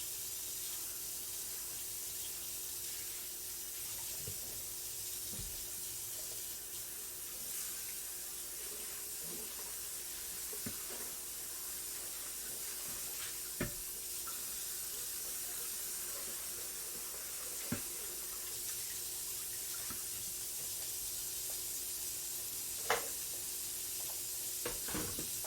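Tap water runs faintly and steadily into a kitchen sink while homemade breakfast sausage is rinsed, a soft continuous hiss with a few small knocks and splashes.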